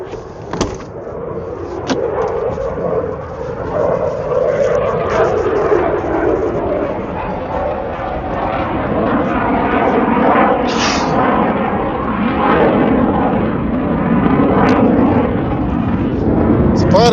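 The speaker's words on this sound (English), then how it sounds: "Fighter jet going over." A fighter jet passes overhead as a loud, sustained broadband roar that swells and lingers, heard near a parked van with someone talking throughout.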